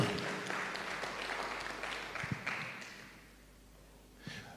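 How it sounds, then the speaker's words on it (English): An audience at a leadership workshop at an international school applauds. The broad, steady clapping runs for a few seconds, then fades out, and a single thump follows near the end. "please, let's clap for Crawford."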